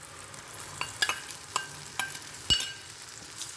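Ginger and green chilli fry in a pan as whisked yogurt goes in, giving a soft close sizzle punctuated by several sharp spoon knocks and scrapes against the pan.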